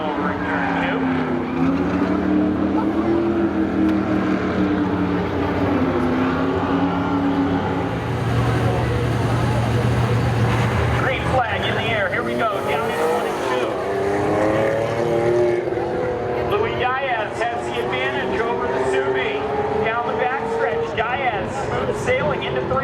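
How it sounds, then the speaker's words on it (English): Spectator drag race cars roaring at Seekonk Speedway, engines rising and falling in pitch as they accelerate through the turns, loud and continuous under an announcer's excited commentary. "Matt DeRozian burns it down over in turn 2."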